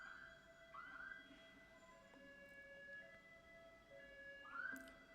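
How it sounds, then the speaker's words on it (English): An emergency vehicle siren passing outside, faint and distant, with wailing rising sweeps heard through a quiet room and no one talking. "Excuse the siren."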